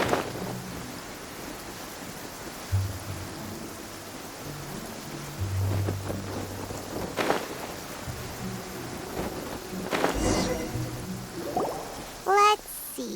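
Rain and rolling thunder in the Genshin Impact video game form a steady hiss of rainfall with a few low rumbles and a louder crack near the end, under game music.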